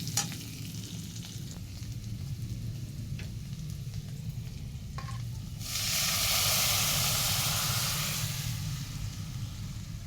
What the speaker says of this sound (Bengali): ভেজে নিয়ে এখন ডালটা দিয়ে দেবো।